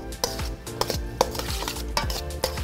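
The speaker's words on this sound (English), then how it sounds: "Once all the ingredients are in, then we mix it up and watch everything come together." Curry and garlic shrimp ingredients stirred together in a pan, with repeated scraping strokes and a soft sizzle underneath, close and steady throughout.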